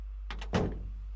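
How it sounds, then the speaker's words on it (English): A door in the Steins;Gate 0 video game shuts with a couple of light rattling clicks and then a solid thunk, over a steady low hum. "The door closed and I could hear her footsteps trail off into the distance."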